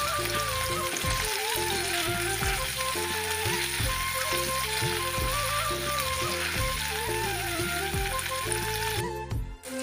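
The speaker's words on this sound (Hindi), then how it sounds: "जिस कढ़ाई में हमने भिंडी फ्राई की है उसी में अब हमने उसी ऑयल में हम डालेंगे प्याज, अदरक और रेड और ग्रीन चिल्ली और इसे भी रोस्ट करेंगे।" Onion, ginger and red and green chillies frying in oil in a kadai used for frying okra, a dense continuous sizzle close up under a looping music bed, with a brief clatter at the end.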